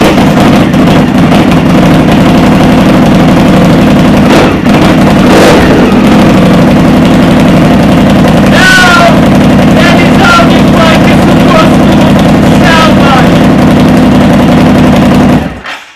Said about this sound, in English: So that is how this bike is supposed to sound like.